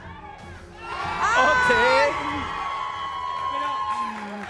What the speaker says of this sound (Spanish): El público grita duro, Venga. Duro, duro con él.